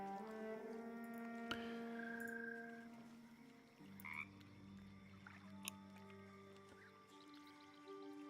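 A frog in a video game croaks softly and steadily over sustained game music, the low calls blending into the tonal background.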